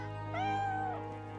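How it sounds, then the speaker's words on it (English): A cat in the video game Divinity: Original Sin 2 lets out a single clear, drawn-out meow over a steady low game hum, close and moderately loud. "The cat and the dog appear to be arguing."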